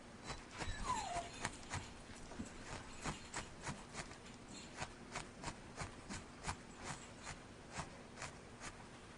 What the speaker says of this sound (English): That whine you heard was my young dog, Dottie.